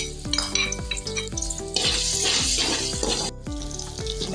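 Garlic ginger paste frying in a pan for a chicken and vegetable macaroni dish, a steady loud sizzle with repeated metallic scrapes and clinks of a spoon stirring against the pan.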